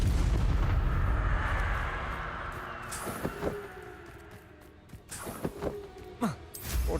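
In a Harry Potter video game, a Confringo blasting curse lets off a deep explosive boom that rumbles and fades out, followed by scattered sharp impacts and thuds from the fight.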